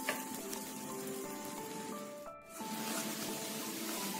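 Water added to a masala in a pan for Tamil vada curry hisses and bubbles steadily. The simmer is close and continuous, dipping briefly in the middle before rising again.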